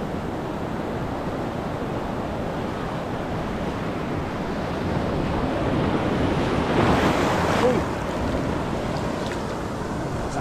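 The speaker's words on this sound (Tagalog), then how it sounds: "Alon." Ocean surf rolls in continuously at a Philippine shore, a broad steady wash of waves with a swell building to a louder break partway through, mixed with wind buffeting the microphone.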